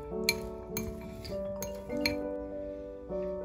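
Burrito filling with onion being mixed in a bowl, giving a few bright clinks and taps of a utensil against the bowl at an irregular pace, close and clear, with no talk.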